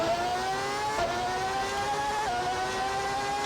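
Steady high-pitched whine of a McLaren Formula One engine in the racing game GP4, a continuous close engine note with brief gear-shift dips, no talking.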